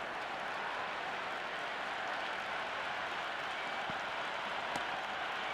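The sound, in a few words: crowd cheering in Cricket 26 video game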